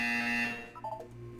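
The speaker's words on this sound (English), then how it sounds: "You will hear a buzzer." A buzzer from the video game Portal 2 sounds loud and close as a single harsh, sustained tone, then cuts off sharply before a brief electronic warble trails away.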